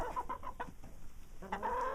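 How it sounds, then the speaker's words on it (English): Chickens cluck in short, soft bursts close by, with a few scattered calls over a quiet outdoor background. "I think these chickens, they just want to steal the limelight"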